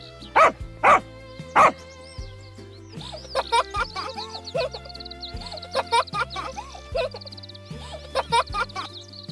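A dog barks a few sharp times near the start, then a bouncy musical tune with plucked notes carries on.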